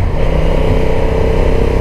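A Honda NT1100 motorcycle engine drones steadily while riding, loud and close with constant road and wind rumble and no pauses.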